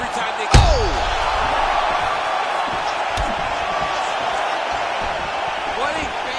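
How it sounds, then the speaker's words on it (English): A loud thudding strike lands in the UFC 4 video game, followed by a sustained roar from the arena crowd, with commentary speech running over it. "And you hear the crowd react every time they go."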